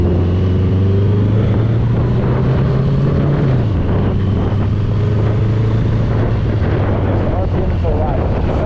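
A BMW K100 cafe racer motorcycle on its first ride drones steadily with a strong engine hum that drops in pitch partway through, heard close up under heavy wind rush.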